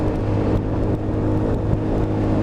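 A Lexmoto Titan motorcycle with small tyres pulls away and builds speed, its steady engine drone holding loud and close throughout with slight rises in pitch and no voices.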